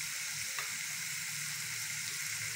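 Mutton liver fries with spices in a pan over medium heat, giving a loud, continuous, even sizzle with a faint stir near the start.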